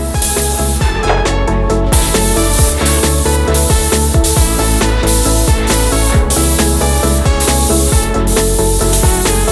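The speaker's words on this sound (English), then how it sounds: "I finished up the first coat by painting the bunk beds" A paint sprayer with a hose coats bunk beds in a steady, loud hiss broken by frequent short pauses and restarts, with no talking.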